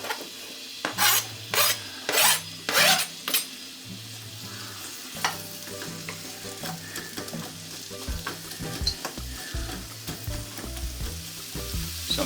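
Onions and garlic hit sesame wok oil for a pork and vegetable chow mein, with several loud bursts of sizzle and then steady frying under repeated scraping and stirring in the wok.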